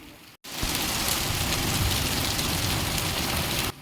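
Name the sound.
heavy storm with rain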